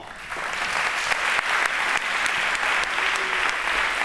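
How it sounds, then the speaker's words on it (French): A crowd applauds steadily, a dense wash of clapping that holds at an even loudness throughout, with no voices standing out. "sous vos applaudissements"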